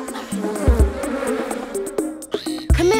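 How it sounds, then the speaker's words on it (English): Bees buzz close and loud in a dense, wavering hum, with bright musical tones and effects layered over the drone in a children's cartoon. "So many bees! But what are they doing in there?"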